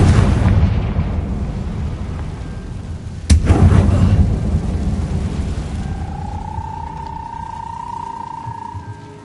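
A Confringo blasting spell bursts in a wizard video game with one sharp, loud explosive crack that rolls off into a rumbling decay, over a steady background din and later a rising tonal hum.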